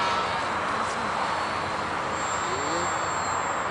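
A light airplane's engine gives a steady, broadband drone throughout, fairly loud and unbroken, with no voices over it.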